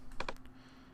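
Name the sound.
typing a birth date on a computer keyboard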